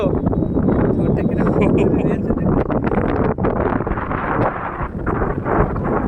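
Strong wind blows outdoors and buffets the microphone in a loud, continuous roar, with voices underneath.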